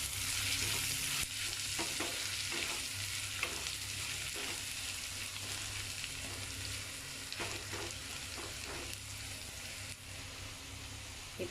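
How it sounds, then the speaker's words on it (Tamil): Onions with ginger garlic paste sizzle and fry steadily in a pan, with repeated scraping stirs cutting through the constant close hiss. "கொஞ்சம் இஞ்சி பூண்டு பேஸ்ட்டு, 1 கப் வெங்காயம் எடுத்துருக்கேன். இது நல்லா மிக்ஸ் பண்ணி விட்டுருங்க."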